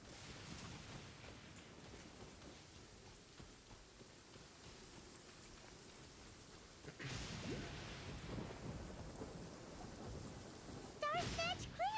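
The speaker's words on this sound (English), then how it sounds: "It's raining pretty hard out here." Steady heavy rain hiss fills the scene in Genshin Impact, swelling louder partway through, with a few brief chirpy tones near the end.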